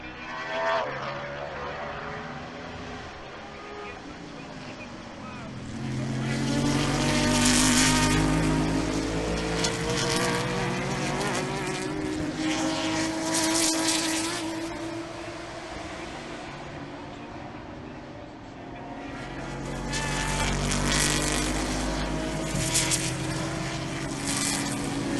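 Race cars accelerate past on a road course at The Mitty 2019. The engines roar up in two loud waves, one near the middle and another later, with rising and falling whines and a quieter lull between the passes.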